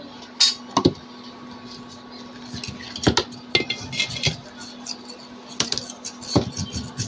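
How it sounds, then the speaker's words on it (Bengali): Metal clinks and clatters as a lid is set onto a pot of rice pudding cooking on an induction cooktop, several sharp scattered knocks and scrapes close by over a quiet steady hum. "তো এখন ঢাকনা দিয়ে ঢেকে দিচ্ছি"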